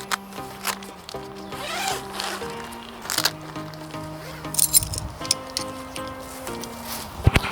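Zippers on a tent's outer tarp pulled open, several quick close zipping strokes with small clinks of the pulls over a faint background tone.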